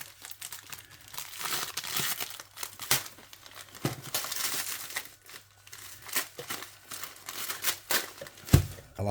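A Weetabix paper sleeve is torn open and handled, giving close, irregular bursts of crinkling and ripping paper with short pauses between them.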